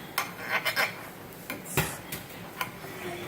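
A knife cutting a big slice from a freshly baked blueberry breakfast bread, with soft scraping strokes, light clicks and taps against the pan or board, close and quiet.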